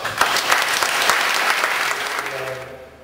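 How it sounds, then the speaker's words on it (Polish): Applause from pilgrims at a parish gathering on a pilgrimage to Jasna Góra, a dense crowd clapping steadily, then thinning and fading out near the end as a low voice begins. "Niech może teraz wyrazimy to poprzez nasze brawa."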